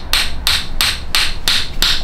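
Six sharp metallic hammer blows in a steady rhythm strike a part during assembly of a 1.5J engine, close and loud with a low background hum between strikes.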